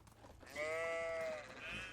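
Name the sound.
sheep bleating in the video game Medieval Dynasty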